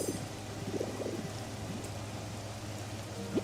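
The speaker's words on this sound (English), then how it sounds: "I think it's just rain. I think that's what they're doing for rain." Steady, faint rain falls in a Pokémon video game, a soft continuous patter over a low hum.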